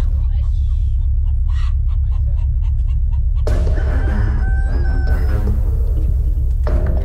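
Two roosters set to fight on a boat at sea squawk and crow in bursts over a constant low rumble, with agitated fowl calls rising sharply in the second half.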